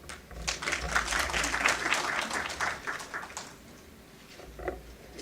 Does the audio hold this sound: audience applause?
yes